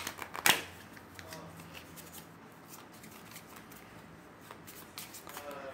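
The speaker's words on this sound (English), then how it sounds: "All right, we'll shuffle." A deck of Magic: The Gathering cards is shuffled close up, with a sharp riffle burst near the start followed by softer shuffling and handling.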